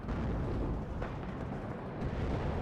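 Artillery strike in the video game WARNO, a heavy rumbling barrage of low booms and bursts rolling continuously, with a sharper impact punching through about midway and near the end.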